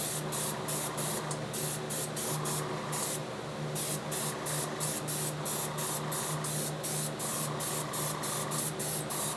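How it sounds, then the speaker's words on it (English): An airbrush sprays Testers Metallizer sealer onto a repainted toy Ghostbusters proton pack, giving a steady close hiss broken by quick regular pulses as the trigger is worked, with no talking. "It's really good for sealing metallic finishes without completely dulling them. But it needs to be applied with an airbrush."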